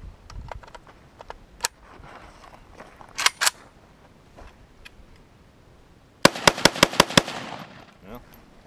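Rapid burst of five sharp gunshots from an AK-47 rifle fed by an Xtech magazine, loud and closely spaced, preceded by a few scattered earlier shots and clicks.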